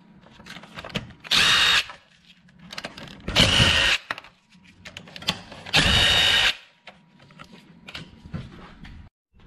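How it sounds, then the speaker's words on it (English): Small cordless drill with a 10 mm socket adapter backing out car engine bolts, three loud whirring bursts of under a second each, separated by quieter clinking and handling noise. "you can go ahead and just use a small drill with an adapter and a 10 millimeter socket"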